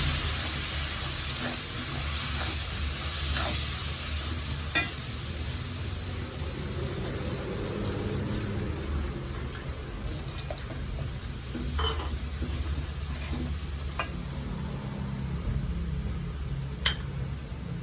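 Tamarind water poured into a Kerala ginger curry and stirred in a pan, a steady soft sizzle and hiss with occasional spoon scrapes and light clinks against the pot, close and continuous without talk.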